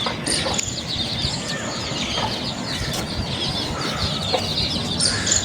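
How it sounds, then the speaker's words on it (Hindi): A mother hen, an Aseel cross, clucks softly among her fourteen chicks, whose steady high cheeping carries close over a dense outdoor background. "ये है जी रेहान भाई की मुर्गी और असील मुर्गे से।"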